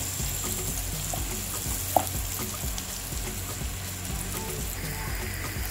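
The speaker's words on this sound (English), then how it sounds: "I'm going to leave this to fry for a bit until the onions have caramelized" Onions fry in a pot with a constant, fairly quiet sizzle and occasional soft stirring clicks, one sharper knock near the middle, and no voices.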